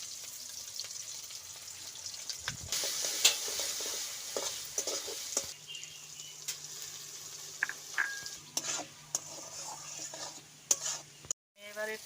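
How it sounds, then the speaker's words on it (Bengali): Green chili and poppy seed paste frying in hot oil in a pan with fried potatoes for a vegetarian Bengali aloo posto, with a steady soft sizzle, stirring scrapes and a few utensil clinks, close by with no talk. "বন্ধুরা, এবার কাঁচা লঙ্কা আর পোস্ত বাটাটা এবার তেলের পরে দিয়ে দেবো।"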